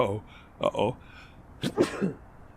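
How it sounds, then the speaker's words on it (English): Two bursts of sneezing and sniffling from a person standing outdoors in the cold, close and fairly loud, separated by a short pause. "I'm out here in the cold, sniffling and sneezing."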